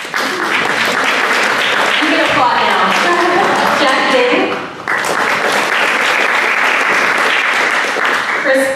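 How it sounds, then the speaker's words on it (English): An audience at a city council candidates forum applauds, loud sustained clapping from a crowd that dips briefly and then swells again. "You can applaud now."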